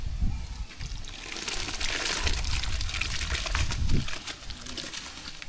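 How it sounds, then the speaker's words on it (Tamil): Rice going into boiling water for curd rice, giving a close watery splash and bubbling with a few louder pours and trickles over a constant boil. "தண்ணி நல்லா கொதிச்சு போயிட்டு இப்போ தயிர் சாதத்துக்கு அரிசி சேர்த்துக்கலாம்"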